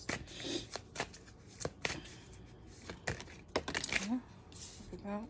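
Tarot cards being shuffled in repeated quick riffling bursts of dry, crisp flicks, close and moderately loud, with brief spoken remarks between them.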